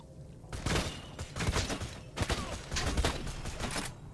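Rapid gunfire from a poison gun in Borderlands 2 comes in repeated bursts of close, crackling shots with short pauses between volleys.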